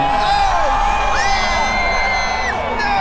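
A large outdoor crowd at a car launch whoops, yells and cheers loudly and steadily, with overlapping shouts rising and falling throughout.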